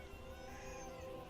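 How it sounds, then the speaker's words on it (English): A cat named Bear meows in Skyrim outside a mine in Markarth, a faint, drawn-out tonal cry heard alone. "oh, that's a cat named Bear."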